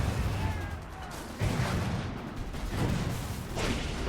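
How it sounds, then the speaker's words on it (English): An artillery piece firing in the video game Toy Soldiers: Cold War, with repeated booming blasts and explosions rolling over a dense, noisy battlefield rumble, loud and close. "re-angle the artillery piece and watch things blow up"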